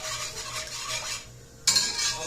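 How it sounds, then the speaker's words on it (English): A spoon stirs chocolate frozen custard base made with cocoa in a pot over high heat, giving soft scraping and clinking against the metal, then a brief pause and a sharper scrape. "So now I'm going to just give it a good stir to make sure all that cocoa gets incorporated."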